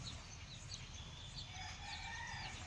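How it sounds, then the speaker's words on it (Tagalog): A rooster crows faintly in the distance amid quiet outdoor ambience, with a few other bird chirps scattered around. "Usa ka manok asa."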